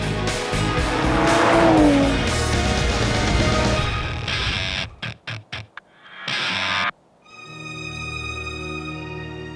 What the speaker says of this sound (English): This is the Aston Martin DB24.